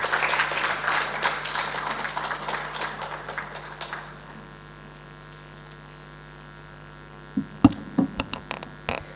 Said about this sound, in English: ladies and gentlemen, join me with a resounding applause for our trustees